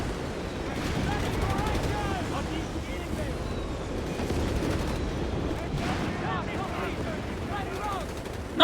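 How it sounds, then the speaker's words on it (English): A needle wave artillery barrage in the Company of Heroes 3 real-time strategy game, Wehrmacht against US Forces, gives a continuous rumble of distant explosions and gunfire with rising shell whistles, under a voice talking. "Another needle wave barrage around the center."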